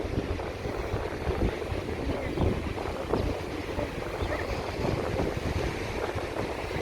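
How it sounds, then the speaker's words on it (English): Strong gusts buffet the microphone with a constant low rumble and roar, steady and close, with no other clear sounds, in Benidorm. "Sorry if it's super windy."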